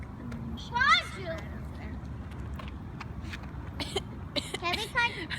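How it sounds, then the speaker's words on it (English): Several short harsh coughs come in bursts, one near the start and a cluster toward the end, mixed with quiet talking outdoors after fireworks. "I'm like coughing my lungs off."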